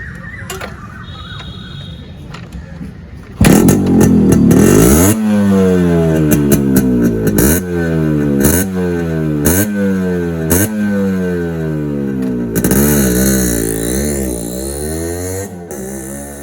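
A Yamaha RX100 two-stroke motorcycle idles quietly, then roars loudly as it pulls away on a test drive, its engine note repeatedly climbing through the gears in rising sweeps before easing off and revving up again.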